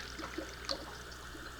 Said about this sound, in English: we're gonna dump this cup water out